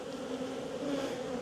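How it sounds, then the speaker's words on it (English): Honey bees from a neglected nuc swarm around a lifted frame, filling the air with a dense, steady, close buzzing and no talk. "Oh, that's a lot of bees."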